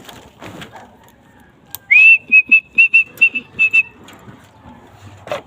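A whistle, called a pito, sounds in a quick series of about eight short, shrill pips after one rising opening blast, loud and close above a low background with faint voices.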